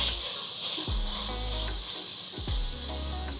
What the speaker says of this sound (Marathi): कांदे आपल्याला अगदी व्यवस्थित परतून घ्यायचे.